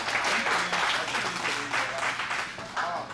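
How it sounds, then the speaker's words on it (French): Crowd applause at a Burkinabé music single launch conference, a dense wash of clapping filling the room steadily, with faint talk and some low tonal background underneath. "Merci de vous applaudir, mesdames et messieurs"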